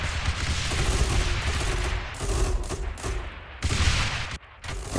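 Mortar towers in the tower-defence game Rogue Tower fire in a dense, continuous barrage of overlapping booms and blasts, loud and sustained for the whole stretch with brief dips, with no talking.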